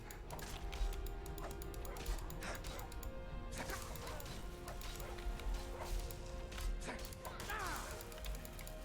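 Dog barking and fighting in Skyrim, with yaps and scuffling crashes mixed into constant clanking, mechanical game noise and a steady tonal backdrop, fairly faint overall.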